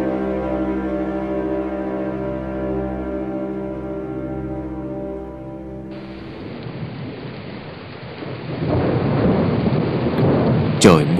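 Heavy rain and strong wind in a storm: a low droning tone gives way halfway through to a loud, dense roar of pouring rain and rushing wind, with a sharp crack near the end.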